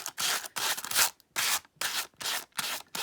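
Rhythmic scratchy sanding strokes on the edge of a dried resin ornament, close and fairly loud, in several bursts separated by brief pauses.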